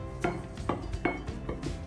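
Cornflour and maida being mixed in a bowl, with a utensil tapping and scraping against the side in a steady run of about four faint clinks.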